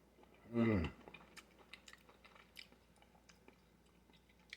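Air-fried asparagus being chewed, with soft, faint crunching bites close to the mouth after a brief burst of voice at the start.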